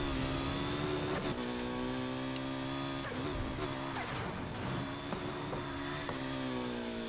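A Ferrari engine in Need for Speed Heat revs and drops as the throttle is released and floored again, a harmonic mid-pitched whine that shifts gears and rises repeatedly, heard alone without talk.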